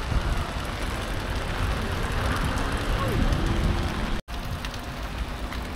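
Rain falls steadily on an outdoor scenic spot at Lucerne, making a constant hiss of drops on surfaces that stays loud and even, with a brief dropout near the end.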